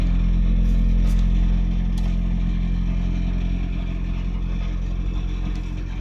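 A broken exhaust on a Honda RD2 rattles over the steady low rumble of its idling engine, recorded close up. The tone stays even throughout, with no voices.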